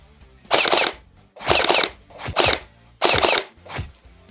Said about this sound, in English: if you hold down the trigger, okay, you could pretty much just leave this on semi-auto then